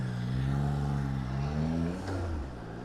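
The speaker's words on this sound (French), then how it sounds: "Oh, le bruit de cette moto!" A Triumph Trident 660 motorcycle engine revs and roars up close, its pitch rising then dropping away over a few seconds.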